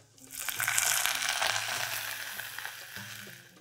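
Broth poured into a pot over sliced garlic frying in oil sets off a loud burst of sizzling that swells quickly and then fades, with a few light clinks.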